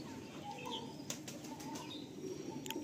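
A female pigeon, held in the hand, flaps its wings in a few short, soft flurries against faint background chatter and ambient noise.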